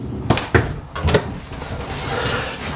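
A bathroom cabinet door or drawer in a 2019 Eclipse Attitude 32 IBG toy hauler travel trailer opens and shuts with a few quick knocks and thumps close by, followed by a faint hollow rumble of room tone.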